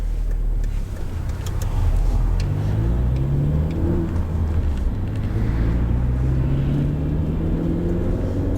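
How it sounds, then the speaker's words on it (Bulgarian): A 2000 Renault Scenic with a 1.6 16V engine cruising on a motorway, loud steady engine drone with rising tones as it accelerates through gears, plus constant road and wind roar inside the cabin. "А сега малко да покараме по магистрала."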